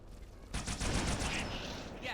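Gunfire in the Halo 2 video game, a rapid burst of repeated shots starting abruptly and running on for over a second, fairly loud and close.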